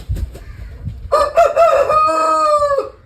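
A chicken makes a few soft, low clucks, then a rooster lets out one long, loud, close crow that lasts nearly two seconds.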